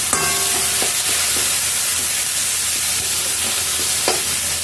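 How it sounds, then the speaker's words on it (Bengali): Chopped onion and tomato frying in oil with bay leaves in a pan, a steady loud sizzle with occasional stirring scrapes of a spatula against metal, heard alone without talk. "একটু ভাজা ভাজা হয়ে যাক"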